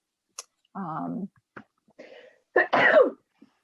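A person sneezes during a municipal assessment appeals board meeting, a brief sharp burst after a short voiced sound and other small noises in a quiet room.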